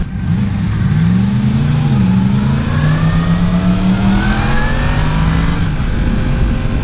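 A 2018 Yamaha MT-10 motorcycle engine on a demo ride revs up and holds a loud, close, steady drone with rising tones through gear changes, heard alone without talk.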